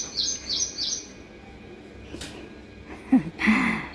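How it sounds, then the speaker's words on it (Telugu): Birds chirping outdoors on a festival morning near a gooseberry tree; a few short bright chirps at the start, then nearby calls near the end, fairly loud over a quiet background. "ప్రతి పక్షి ఒకసారి వచ్చి ఇట్లా అరుస్తూనే ఉంటుంది"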